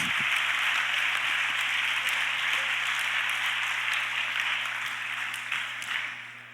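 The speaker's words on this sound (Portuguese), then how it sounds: "Pode dar um aplauso para Jesus Cristo?" Congregation applauding during a church sermon, a steady, even wash of many hands clapping in a large hall, with a low electrical hum beneath and the sound fading slightly at the end.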